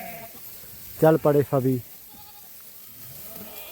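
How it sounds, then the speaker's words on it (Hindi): A large mixed flock of hundreds of sheep and goats with nomadic Gaddi shepherds bleats in three quick, loud calls close by, with quieter flock noise around and someone talking. "बहुत बड़ा धान है इनका, बहुत बेटी बकरी है इसमें"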